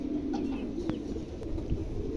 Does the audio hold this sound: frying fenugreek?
no